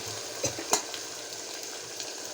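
Onion frying in oil, a steady close sizzle with two quick clinks of a utensil stirring the pan early on.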